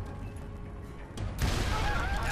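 A loud explosion blast in the Western shooter game Call of Juarez: Gunslinger, a rumbling boom that swells midway and holds as a dense roar.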